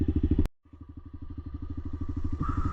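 Quad ATV engine chugging through mud with a steady rhythmic throb, near and loud, after a sharp thump and brief drop; the engine note rises slightly toward the end.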